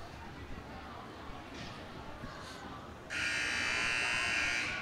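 A loud, sustained electronic buzzer cuts in abruptly partway through and holds steady to the end during a varsity girls basketball game between Hersey and Elk Grove, above a murmur of gym crowd noise and voices.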